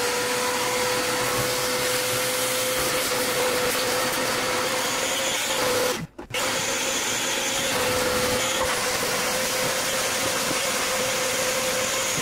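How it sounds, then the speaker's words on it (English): A vacuum cleaner runs steadily with a constant high whine while cleaning out the bilge of a wrecked supercharged mini jet-boat, briefly choked or cut off midway before resuming its drone. "We might as well vacuum it out while we're here."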